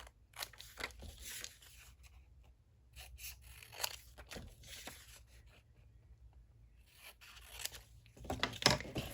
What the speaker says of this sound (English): And then we're going to fold and cut them in half.